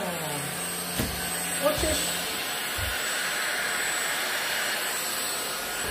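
A cordless vacuum cleaner runs with a loud, steady whooshing roar, briefly shifting as it is switched and its speed changed, with a voice speaking briefly.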